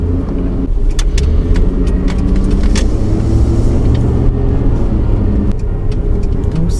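A car driving along a road on the way between garage sales, its engine and tyre rumble loud and steady throughout, with a few faint clicks and rattles inside the cabin.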